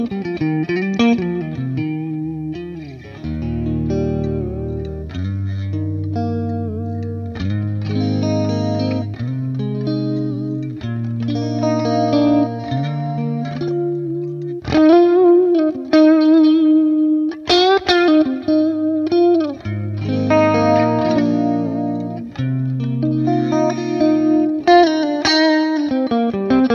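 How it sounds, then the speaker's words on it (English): Electric guitar with vintage chorus effect through a 68 Purple Plexi amp-style patch, playing melodic chord and single-note phrases with shimmering, modulated sustain, loud and up front with no voices. "I put on some vintage chorus on this thing, and I am just in love with this sort of."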